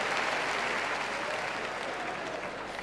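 Audience applause for the comedian Abbas at a New Year stage show in Abidjan, a dense, continuous clapping from a large crowd, loud and steady throughout.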